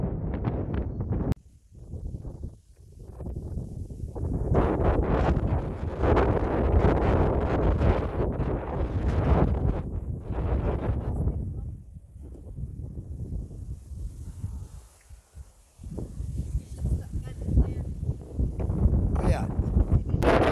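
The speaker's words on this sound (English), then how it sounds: "It's so windy." Strong wind buffeting the microphone at Prestonhill Quarry in Inverkeithing, a loud rumbling roar in gusts that swell and ease, with people talking intermittently beneath it.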